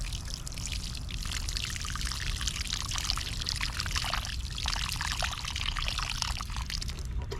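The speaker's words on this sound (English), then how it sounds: "I'm going to fill this hole full of water." Water is poured steadily from a container into a freshly dug planting hole in loose garden soil for bell pepper plants, a continuous close splashing gush with no talking.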